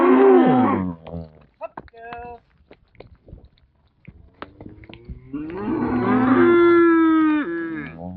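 Dexter cattle moo loudly and close by during a move to a winter lot, one long low call opening and another drawn-out bellow near the end, with quieter shuffling and brief sounds between.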